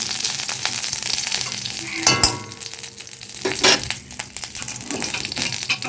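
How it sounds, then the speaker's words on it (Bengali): Crushed ginger, slit green chillies and curry leaves frying in hot oil with cumin for a biuli dal, giving a loud close crackling sizzle with sharp spits and bursts as the leaves hit the oil. "এরপর আমি কারি পাতা দিয়ে দিলাম"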